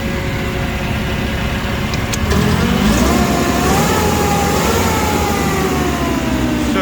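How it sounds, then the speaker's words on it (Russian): Idling Mitsubishi FG15 diesel forklift engine, a 1.5-ton Japanese machine, running smooth and steady with a faint rise in revs midway, continuous and close with no speech. "очень мягенько, очень ровно работает мотор"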